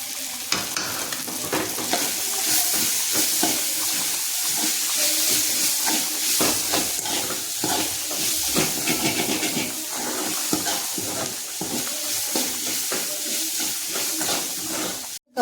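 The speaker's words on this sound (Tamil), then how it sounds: "ஆட் பண்ணிவிட்டு இது நல்லா ஒரு கிண்டிக்கலாம்." Chicken liver gravy being stirred with turmeric in a frying pan gives steady sizzling and frying hiss, with scraping stir strokes throughout and no talking.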